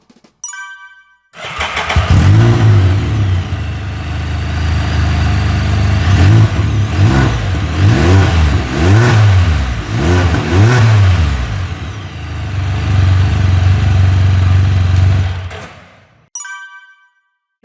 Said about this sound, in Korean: 순정 머플러 소리 한번 들어보겠습니다